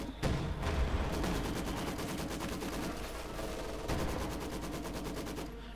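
Rapid, loud bursts of gunfire from German anti-tank guns and tank destroyers in Company of Heroes 2, a dense rattling barrage sustained across the whole stretch with no talk.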